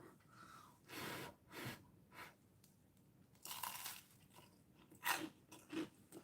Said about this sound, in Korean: 역시 빵이 바삭바삭하니까 맛있긴 하네요